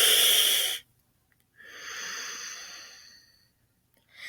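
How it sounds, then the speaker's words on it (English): Breathwork for pain management: a sharp hissing inhale drawn through the teeth, then a softer, longer exhale through the nose after a short gap, with another hissing breath beginning at the end, close and alone. "breathing in through your teeth and out through your nose"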